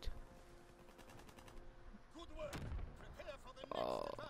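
Gunfire in a World War II prop hunt video game comes as scattered shots and bursts in mid-distance, mixed with game effects and busy background sound, while a player talks over it.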